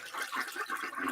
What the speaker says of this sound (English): That is a long toilet flush, by the way.